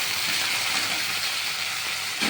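Potatoes go into browned onions frying in a pan for an egg tarka, setting off a loud, steady sizzle that hisses continuously and close by with no talking.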